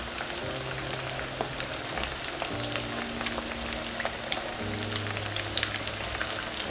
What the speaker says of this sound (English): So I'm just gonna leave these to fry